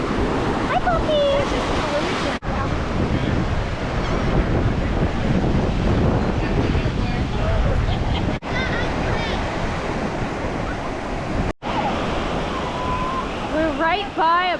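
Ocean surf washes up a sandy beach at St. Augustine, Florida, a loud continuous roar of breaking and receding waves mixed with wind buffeting the microphone, with people talking at times.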